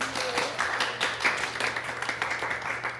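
A small group claps steadily at a co-working and cocktails gathering for women influencers, quick uneven hand claps running throughout at a moderate, fairly close level.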